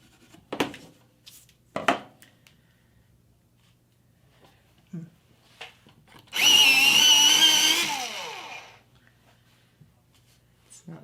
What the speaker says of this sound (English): pencil sharpener.